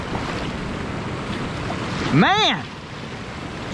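Rushing rapids and a waterfall on the Eno River in North Carolina give a steady, broadband roar throughout, with a brief rising-and-falling whistle-like sweep near the middle and a voice briefly heard.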